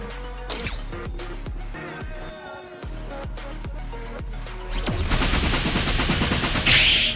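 Gunfire in the battle royale game BGMI: a run of sharp, evenly spaced single shots early on, then a denser, louder burst of rapid fire near the end, with no talking.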